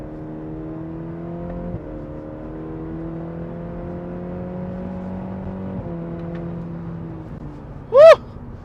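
A Cadillac CT4 accelerates in performance shift mode, its engine note climbing steadily, dropping at two clear gear changes, then climbing again. A short high whoop cuts in near the end.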